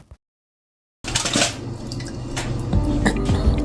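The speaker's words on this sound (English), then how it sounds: "Pour it all over the salmon." Buttery lemon and garlic sauce pours over salmon, a steady wet splashing and trickling that starts abruptly after a second of silence and grows slightly heavier toward the end.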